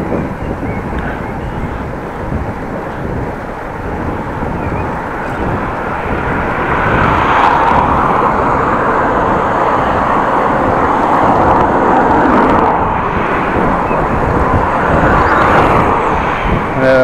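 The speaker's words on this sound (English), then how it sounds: "Full on headwind, which is not very nice." A strong headwind roars across the microphone while cycling through Groningen city streets. The buffeting is a steady, broadband rumble that swells louder about halfway through and stays heavy to the end.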